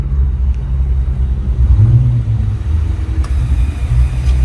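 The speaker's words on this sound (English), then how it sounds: "This thing sounds like it has a supercharger on it right now, but that's what it takes to run the vehicle." A car engine idles with two 400 amp alternators fitted, a steady close low rumble with a faint whine on top and no talk.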